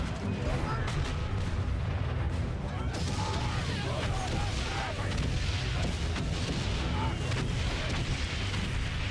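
Cannon fire thunders in Valiant Hearts: The Great War, with repeated heavy booms and rumbling barrages over a dense battlefield din as voices talk throughout.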